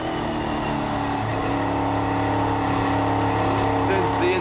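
An Elite 2 race car engine at Raceway Venray, recorded onboard during a race, holds a loud, steady, dense drone at high revs throughout, with a faint rising whine near the end.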